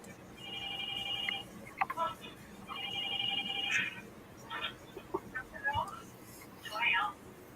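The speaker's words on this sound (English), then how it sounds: "you hear the phone ring, that's the TV show" A telephone rings from a TV show playing on a monitor in the background, two bursts of electronic trilling ring separated by a pause, mixed with other clucking-like chirps and faint room noise.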